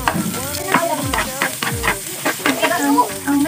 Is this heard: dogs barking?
no